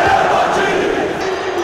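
A stadium crowd in the FIFA 16 football video game, playing a Fenerbahçe match, roars and applauds in a steady, dense wash of noise that holds without a break.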